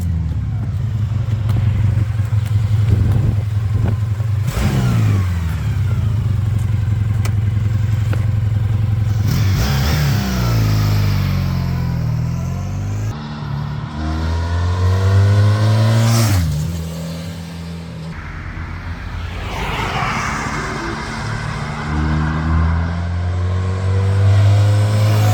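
A 1986 Honda VF1000R motorcycle engine revving hard while riding, rising and falling through several gear changes, loud and close with wind rush between the climbs.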